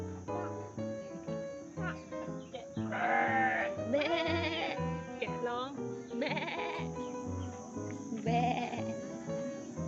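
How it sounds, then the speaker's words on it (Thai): Sheep bleat repeatedly at a farm setting in Khao Yai, several wavering calls close by, with people talking over and between them. "แกะใช่ไหม"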